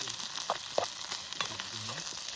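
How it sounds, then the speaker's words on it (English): Tomato puree frying on a Trangia camping stove outdoors, a steady soft sizzle with faint crackles and a few light stirring knocks, close and fairly quiet. "it's very important to cook out the tomato puree"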